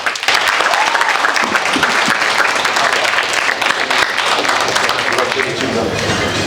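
A crowd at a live speaking event gives Chase another round of applause: sustained, full clapping from many people that holds loud and even, with faint voices and cheers mixed into the wash.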